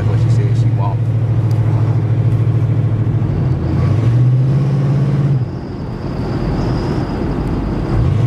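A 1988 Chevrolet Caprice with true dual exhaust, H-pipe and mufflers rumbles steadily at close range, rising briefly in a small rev before settling back to idle, with a voice over it.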